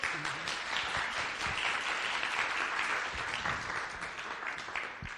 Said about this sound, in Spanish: Con ese aplauso vamos a hacer más